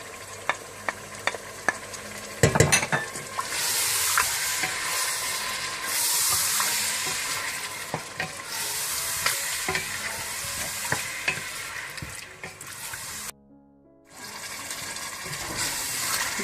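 Meat fries with ground garlic and ginger for haleem, a loud, dense sizzle with repeated stirring scrapes and knocks, dropping out briefly near the end before resuming.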